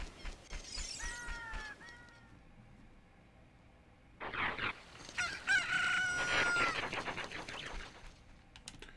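In Ocarina of Time, a rooster gives a short cluck, then a long, loud, ringing cock-a-doodle-doo in the foreground.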